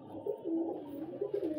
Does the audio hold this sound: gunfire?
no